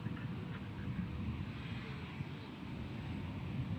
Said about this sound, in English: That horn signifies a heavy aircraft taking off